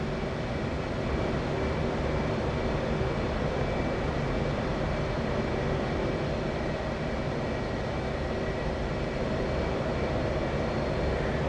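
Steady, broad engine roar from an F/A-18C jet in the DCS flight simulator with its air brake extended, a constant loud rush of wind and turbine noise with no breaks.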